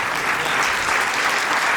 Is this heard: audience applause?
yes